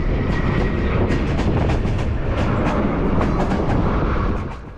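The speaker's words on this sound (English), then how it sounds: "the Turkish Railways sleeper train from Istanbul to Sofia" Turkish Railways sleeper train from Istanbul to Sofia running steadily, a loud continuous rumble with faint rhythmic rail clatter, fading slightly at the end.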